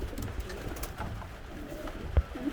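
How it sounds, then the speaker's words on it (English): Sport pigeons coo softly in a loft, low and murmuring with a few brief calls, steady and fairly near, with no talk over them. "These are the pigeons."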